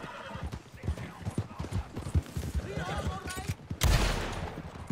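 In the Red Dead Online video game, a horse's hooves clip-clop in a quick rhythm, a whinny rises midway, and a burst of gunfire erupts near the end, all loud and close.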